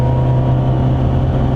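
Alfaholics Alfa Romeo GTA-R290 engine idling below 1,000 RPM, a loud, steady low throb with a strong deep hum that stays constant throughout, close and unbroken.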